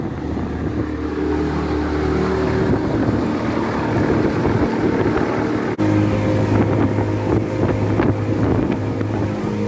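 A restored boat motors along a channel near Amherstburg at about six miles per hour on its first trial run. The engine drones steadily, heavy wind buffets the microphone, and one brief dropout breaks the sound partway through.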